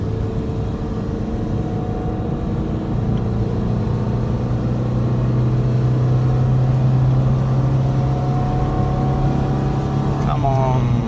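A Ford Fiesta MK1 engine pulls in second gear while the car is slowing down and breaking down, heard from inside as a loud, steady, droning hum with a faint rise in pitch near the end.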